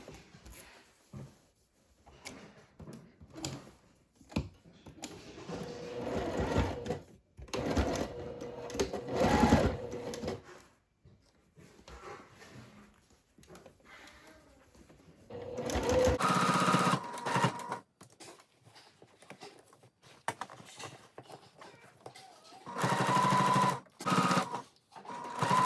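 Sewing machine stitching through fabric and trim on reversible shorts, running in bursts of rapid needle chatter with short pauses between runs, close and fairly loud.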